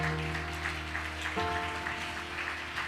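A congregation applauds inside a church service, steady broadband clapping filling the space throughout, with a sustained musical tone underneath that shifts partway through.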